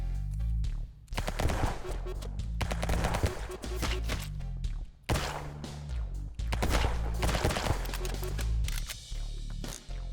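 Sustained weapon fire in the top-down roguelike shooter Flashes of Chaos, a dense rapid stream of shots and bursts over heavy game sound, pausing briefly twice before resuming at full intensity.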